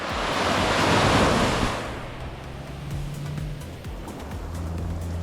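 Ocean waves breaking on a sunny west-coast beach near South Mandurah, Australia: a loud surging crash in the first two seconds that fades into a softer wash, with wind noise throughout and no speech.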